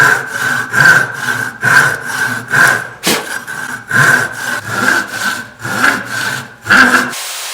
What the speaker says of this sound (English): We're gonna go crazy and try to do this with the Japanese saw.